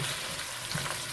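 Chopped onion hitting hot oil in a pot for a Ghanaian cabbage stew, giving a steady, full sizzle that crackles continuously and fairly loudly throughout, with no talking.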